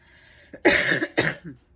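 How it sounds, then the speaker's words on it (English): Two harsh coughs close to the mic, a short pause between them, followed by a faint throat sound. "Excuse my cough."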